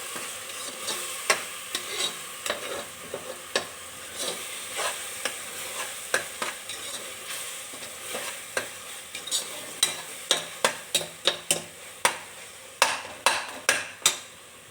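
Curry masala gravy for egg curry, made with MDH masala powder and tomatoes, frying in a pan while a spoon scrapes and stirs in quickening clattering strokes over a continuous sizzle, close and without talk.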